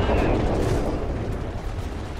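A tank cannon fires in a video game, a loud broadband boom at the start that rolls off into a rumbling decay over about two seconds.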